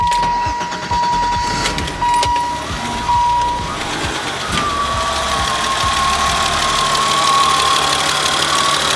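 A 1987 BMW E28 with a new clutch and gaskets starts up nearby. After cranking, the engine settles into a steady idle, accompanied by a faint whine and some clatter.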